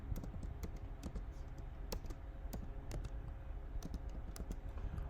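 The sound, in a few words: typing on a computer keyboard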